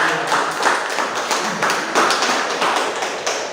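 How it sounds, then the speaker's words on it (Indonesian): A classroom group claps for a student group after their presentation, giving a short burst of dense, overlapping applause nearby that pulses slightly and stays steady for a few seconds. "Ya, tepuk tangan buat kelompok."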